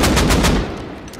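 AK rifle firing in the Rust console survival shooter: a rapid burst of about five loud, close shots in quick rhythm, then a fading echoing tail with a faint further shot.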